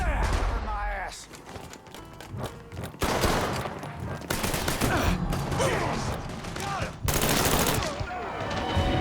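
Rapid bursts of automatic gunfire and single shots crack through a Mafia 3 shootout, loud and nearly continuous, with shouted voices mixed in.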